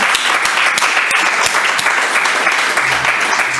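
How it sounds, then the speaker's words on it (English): A workshop audience applauds after the presentations end, dense continuous clapping filling the room, loud and sustained throughout with no one speaking over it. "Long-awaited clap."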